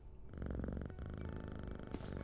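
A cat in a video game purrs as it is petted, a steady, soft, rumbling purr that runs nearly the whole time with a brief dip partway through.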